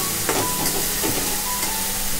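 Finely chopped ginger, garlic and coriander frying in a pan for Maharashtrian pithla, a steady close sizzle with soft crackles and pops, no voices.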